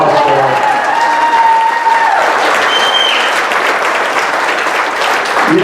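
Loud, continuous audience applause at a live event fills the room, a dense steady roar of clapping, while someone speaks and whistles cut through briefly.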